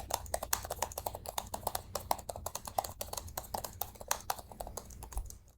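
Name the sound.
typing on HP Omnibook X Flip laptop keyboard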